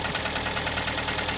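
A Kia Sportage 2011 with the 2.0 G4KD engine, reported as knocking with scored cylinders, runs on a cold start, giving a steady, loud, close mechanical drone with an even ticking texture throughout.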